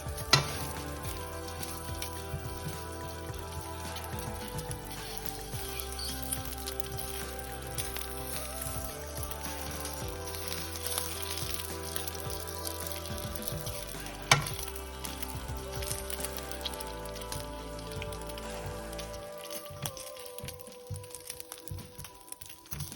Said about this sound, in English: And we hear the nice sizzling sound already.